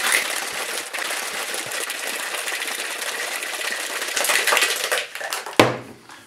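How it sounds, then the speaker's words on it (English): A cocktail shaker filled with cream and ice, shaken hard to make an Orange Whip: a loud, continuous rattling clatter of ice for about five seconds, then a sharp knock as the shaking stops. "we're gonna put the lid on. Give that a good shake till it's really,"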